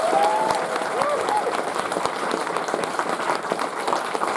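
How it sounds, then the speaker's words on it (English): Audience applause at an anime convention's closing ceremony, dense sustained clapping from a large crowd filling the room at steady volume, with a faint voice briefly audible near the start. "So a big round of applause for all of them."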